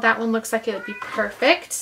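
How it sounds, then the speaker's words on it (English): A pet cat meows in the background of a craft room where someone is cutting paper circles with Sizzix dies, its short calls surfacing under a person's nearby, steady talking. "You can hear my kitty back here meowing."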